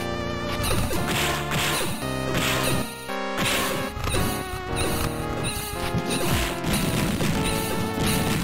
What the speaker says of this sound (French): Vous l'entendez le bruit du game over?